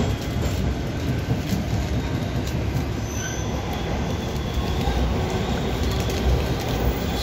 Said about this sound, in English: So we just took the metro, train to Kipling